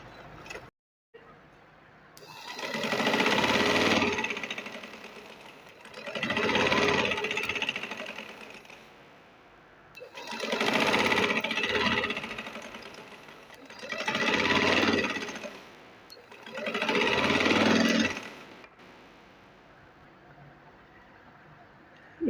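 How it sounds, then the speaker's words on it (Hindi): A sewing machine stitches a sleeve seam in five separate runs of rapid, buzzing stitching, each a couple of seconds long, with quiet pauses between them, close and fairly loud. "अब मैं इसको इस तरह से सीधा करूँगी और यहाँ सिलाई लगा दूँगी"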